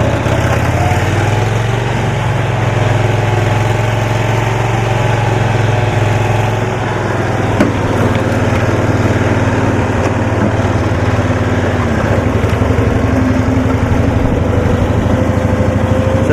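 A 1972 Cushman pickup's small engine drones steadily and loudly throughout, a continuous low rumble with slight shifts as its wheels spin in soft ground.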